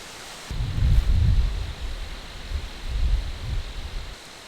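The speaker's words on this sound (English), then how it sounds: "It's getting windy." Outdoors at night by a Zpacks Duplex tent, wind gusts buffet the microphone in low rumbling surges that rise and fall twice over a steady hiss, with no one speaking.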